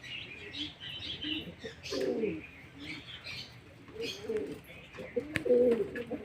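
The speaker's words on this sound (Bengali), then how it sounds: "তো বন্ধুরা পায়রাগুলো বাইরে নিয়ে চলে এসেছি" Young pigeons in a cage coo in low bursts and flap their wings in short flurries, with a few higher chirps, close by and fairly clear, without speech.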